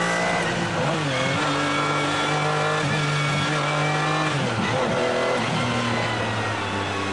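A high-performance car engine roars steadily nearby, its pitch rising and dipping as it revs through gear changes.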